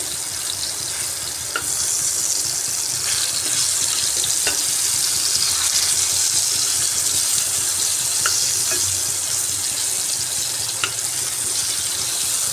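Salt-and-turmeric potatoes frying in refined oil in a kadai give off a steady, close sizzle, with occasional light clicks of the potatoes being turned over, and no one speaks.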